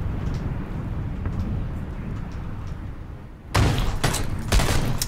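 Gunfire in the video game PUBG rings out as a burst of several sharp shots after a stretch of quieter background rumble, fairly close and loud, with no clear talking.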